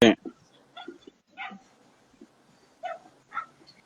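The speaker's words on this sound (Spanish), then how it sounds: "No sé dónde está este perro ladrando. está al fondo, muy lejos." A dog barks far in the distance, a few faint, scattered yips and woofs with quiet gaps between them.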